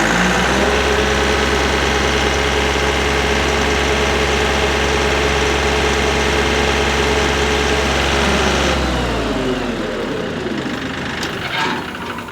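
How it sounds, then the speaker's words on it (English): The engine of a DK 10 machine runs steady and loud at idle, with a heavy low rumble, then its note shifts and thins near the end as the PTO kicks in and begins spooling up, with no talk. "I'm going to start the PTO at about 1200. And then I'm going to spool up."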